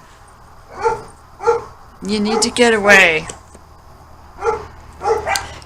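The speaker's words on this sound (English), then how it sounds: "You hear my dogs barking?" Pet dogs at home, one big and one little, give a string of muffled barks, a few separated yaps before and after a louder whining howl in the middle, with a person talking over part of it.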